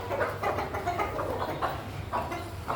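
Hens and roosters on a farm cluck steadily while pecking at scattered flour, with a dense, close chorus of short repeated clucks over a low background rumble.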